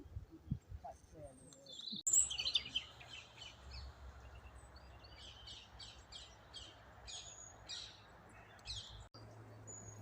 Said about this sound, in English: The high-pitched bird noises you hear are parakeets